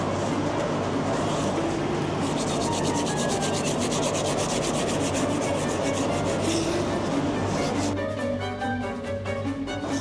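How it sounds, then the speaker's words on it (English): Steady rough scraping on a hard surface by hand aboard a container ship, continuous rasping strokes up close, loud and unbroken for several seconds. "I'm gonna keep scraping this."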